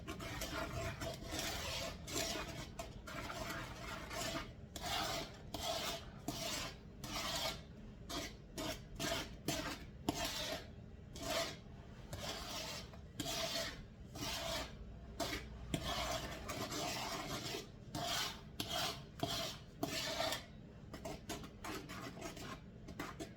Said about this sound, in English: I'm going to stir the buttermilk in here with a wooden spoon